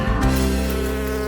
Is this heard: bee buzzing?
yes